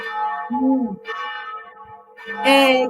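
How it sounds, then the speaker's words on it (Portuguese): Cathedral church bells ring out calling people to mass, several strong resonant tolls in a loud, close peal with a steady sustained hum between strikes. "Quantas badaladas são? Que horas que são aí? São vários, eles estão chamando para missa."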